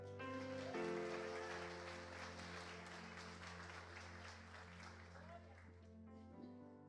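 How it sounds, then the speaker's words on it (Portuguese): A church congregation applauds during a Portuguese-language sermon, a steady wash of clapping held for several seconds at moderate distance, with a sustained tone and a voice underneath. "Você pode aplaudir o Senhor?"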